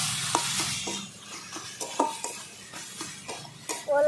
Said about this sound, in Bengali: আমি ঢাকনা তুলে দিয়েছি দেখো আমি নাড়িয়ে দিচ্ছি ভালো করে